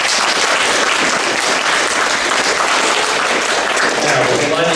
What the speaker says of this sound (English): I think a big round of applause for the story.